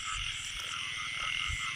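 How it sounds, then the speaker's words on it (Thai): A paddy-field frog after rainfall gives rapid, pulsing croaks that rattle low against a constant high insect drone, with a few stronger throbs near the end. "กบ"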